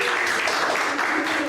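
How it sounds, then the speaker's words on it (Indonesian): Audience applause in a hall, a short dense wash of clapping from many people, steady and fairly loud throughout. "Boleh tepuk tangan dulu."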